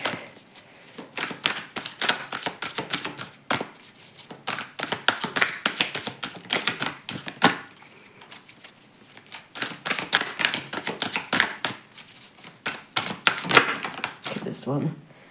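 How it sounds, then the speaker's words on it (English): A tarot card deck being shuffled in a quick, busy flurry of papery riffles and taps, loud and close, running in bursts with brief pauses; light talk is not evident over the shuffling. "I'll give each of them a quick shuffle to get this reading started"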